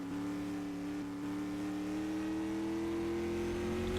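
Race car engine, the number 25, droning steadily at a distance on a warm-up lap during a time trial, a sustained even hum with a slowly rising pitch and no voices.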